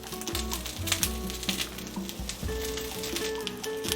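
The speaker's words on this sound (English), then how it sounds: "So I'm just gonna let them roast like that for a few minutes" Serrano peppers roast in a pan with a steady, close sizzle and crackle that runs unbroken throughout, with no voices over it.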